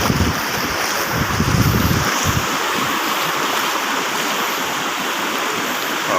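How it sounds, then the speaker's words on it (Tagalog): A strong river current rushes past in a continuous loud roar, with gusts of wind buffeting the microphone. "Sobrang lakas ng agos."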